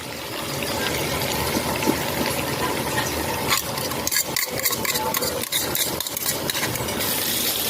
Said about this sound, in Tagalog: Haluin ko lang po